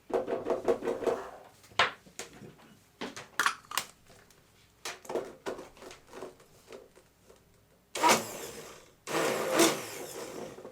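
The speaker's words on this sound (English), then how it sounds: "I'm going to get my stick blender in here now and get this going." A stick blender churns hot process liquid soap made from water, glycerin and two lyes, running in short, loud bursts separated by brief pauses, with longer buzzing runs near the end.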